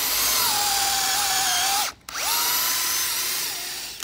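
A power drill with a German-made FAMAG bit bores into wood, a loud, steady high whine that briefly cuts out near the middle as the bit is pulled back, then spins up again.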